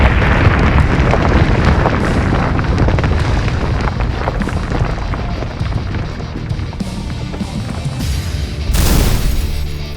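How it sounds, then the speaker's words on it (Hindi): A tunnel-construction blast deep in the snowy Pir Panjal range of the Himalayas sends out a heavy, sustained roaring rumble that rolls on for several seconds, with a fresh surge of noise near the end. "पहला धमाका।"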